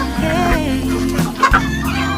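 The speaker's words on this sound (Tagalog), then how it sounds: "Yan, maraming rooster dito na nagbibinata, pangkatay." Young roosters being raised for meat cluck and cackle close by in overlapping, throaty bursts with no pause.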